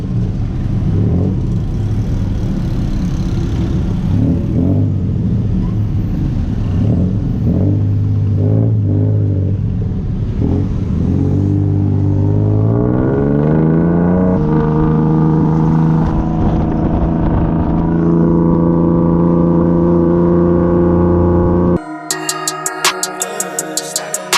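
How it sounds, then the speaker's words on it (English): Busy Bangkok traffic heard from the back of a moving cart: a loud, continuous engine rumble climbs steadily in pitch as the vehicle accelerates, then gives way abruptly to a harsher, choppy mechanical noise near the end. "Traffic is crazy."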